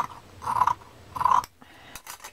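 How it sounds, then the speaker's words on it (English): Scissors cut across the end of a journal page, two crisp rasping snips close up, followed by a faint rustle of paper. "I want to cut this off the end first."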